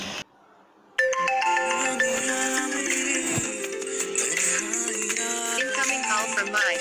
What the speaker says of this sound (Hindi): जब कोई व्यक्ति आपको कॉल करेगा तो कैसे वीडियो रिंगटोन बजेगी।